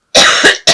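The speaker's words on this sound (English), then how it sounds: "I'm so sorry about this cough." A person with a lingering cough lets out two close, loud coughs, then a third short one, alone with no talking.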